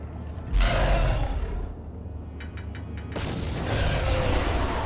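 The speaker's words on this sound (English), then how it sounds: "Hopefully all the frag mines I've put in there will blow it up." Frag mines detonating in Knights of the Old Republic: a loud, deep boom that rolls into a rumbling roar, then a few quick clicks before a second sustained, noisy blast swells and holds.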